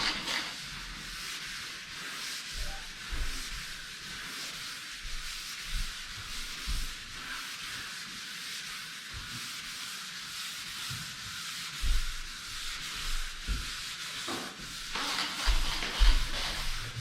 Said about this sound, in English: that piece of sandpaper just does not want to stay in place